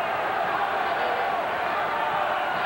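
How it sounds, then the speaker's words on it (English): A German boxing crowd keeps up a steady, dense roar of chanting and raucous noise at the end of a round, continuous and fairly loud throughout. "This is the German crowd here that is chanting and making the raucous noises that punctuate the end of each round"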